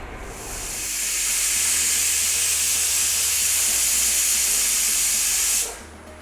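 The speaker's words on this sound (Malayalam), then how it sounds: "ഇപ്പോൾ ഇത് 2 വിസിലടിച്ചിട്ടുണ്ട്." Steam hissing steadily and loudly from a pressure cooker on the stove, a broad continuous rush that swells in over the first second, holds for several seconds, then cuts off abruptly, with a faint low hum underneath and no talking.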